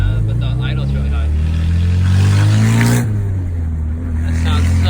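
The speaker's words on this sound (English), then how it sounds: "Oh my god, that exhaust leak is bad." A K20-swapped Honda EK sedan with a high idle and an exhaust leak drones with a steady, loud, rough hum that barely changes, while people talk over it inside the car.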